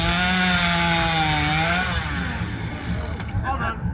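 Chainsaw cutting through timber at a timber show competition, a loud sustained whine with rising and falling pitch that drops off near the end, close by.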